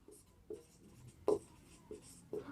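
Pen writing an answer on paper during a maths lesson on arithmetic progressions: soft scratching strokes with periodic firmer taps, close and quiet, no talk.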